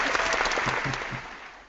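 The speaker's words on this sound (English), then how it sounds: "Applause." Brief applause during a business talk show segment, a burst of clapping from a small group that fades out over under two seconds.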